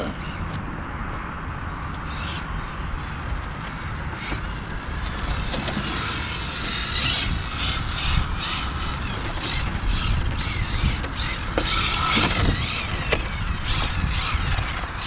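A Hyper GTB 4S RC car, fitted with a new motor system after an older Max 6 setup, runs flat out with a steady, dense high-pitched whine and broadband roar. It holds fairly constant and loud for the whole stretch, with no talk.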